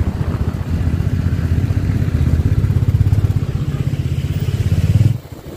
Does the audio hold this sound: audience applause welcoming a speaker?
no